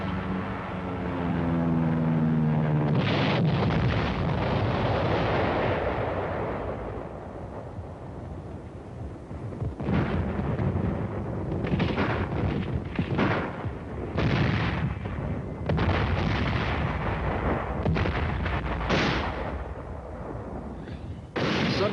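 Korean War combat footage of artillery pounding communist positions dug into the hills: a deep rumbling roar opens, then heavy booms and explosions land one after another, loud and close, without talk.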